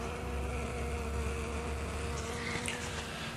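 Honeybees fan at a hive entrance with their rear ends raised, making a continuous close buzzing hum that holds steady and stays fairly quiet throughout.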